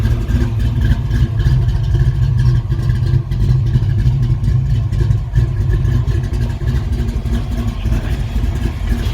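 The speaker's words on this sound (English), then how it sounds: "Yeah, it's idling right now, cold, about 750, looks like." A cold Ford Fox Body with a 427W V8 idles steadily at low rpm, a loud, close, continuous rumble with no talking.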